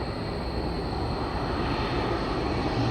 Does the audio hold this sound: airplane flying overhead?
yes